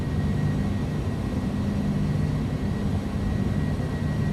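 An Airbus A300 BelugaST's jet engines roar steadily at takeoff power in X-Plane 11, a loud, continuous broadband rumble with a faint whine, no voices.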